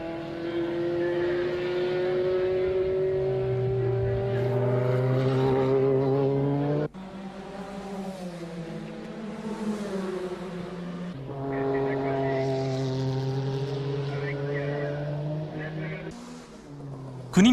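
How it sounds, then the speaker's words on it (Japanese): Porsche race car lapping at the 1990 Le Mans 24 Hours, its engine note rising and falling in long sustained sweeps, loud and close, with a voice talking over it throughout. "国光操るポルシェが夕日の中快調に追い上げ始めた頃"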